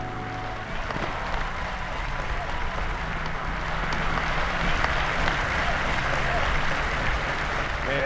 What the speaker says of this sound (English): Man, you hear the roar from that crowd, Brett.